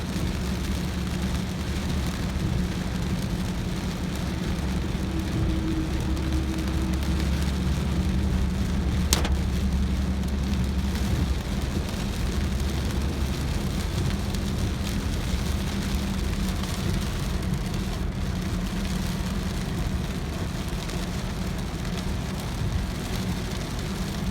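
Rain falls steadily while riding on a road, a dense, unbroken hiss with a low rumble of travel underneath that holds constant throughout, with no voices.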